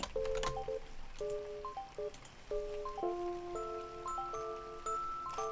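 Rain patters softly and steadily in Animal Crossing: New Leaf, a gentle background hiss under bright tinkling game-music notes that step up and down in a light, plinking melody throughout.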